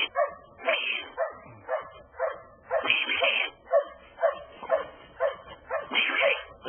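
Hunting dog barking repeatedly at a raccoon treed overhead, a steady run of loud, close, evenly spaced barks and bays with a few higher yips mixed in.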